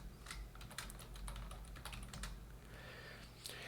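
A username and password are typed on a computer keyboard at a console prompt, with quick, uneven clusters of crisp key clicks close by and no talking.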